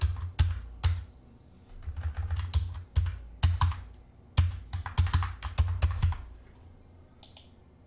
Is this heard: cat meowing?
no